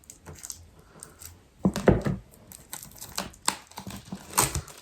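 Scissors snipping and slicing through the packaging of a gift box of books, a series of crisp close cuts and crinkles with a few louder bursts of tearing, no voices.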